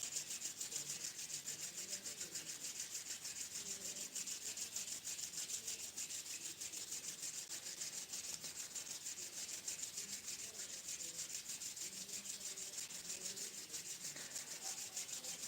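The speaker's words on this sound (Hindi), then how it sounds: "Keep rubbing your hands." Hands are rubbed together fast and continuously, giving a soft, steady, dry friction hiss that stays faint and close throughout with no pauses.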